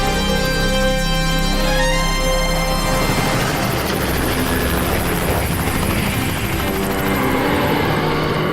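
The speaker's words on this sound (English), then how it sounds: "this new jet copter's even faster than my old Learjet" A jet copter in flight, its loud continuous rotor and turbine whine filling the scene with steady thrumming and a rising high-pitched buzz, close and unbroken.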